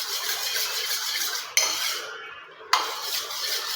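A spoon stirs black coffee powder into hair oil in a bowl, a steady scraping clatter against the dish with two sharp clinks and a brief hush between them.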